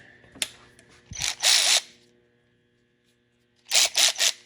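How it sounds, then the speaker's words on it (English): A Hyper Tough cordless electric ratchet breaking a bolt loose from 20 foot-pounds gives two short whirring bursts, a brief one followed by a longer triple-pulsed run, with a click and quiet gaps between. "Let's get the electric ratchet here."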